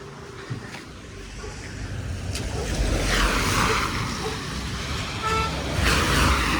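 Steady broadband hiss of heavy rain and water on a road, with a passing vehicle's swish and a faint horn in the background.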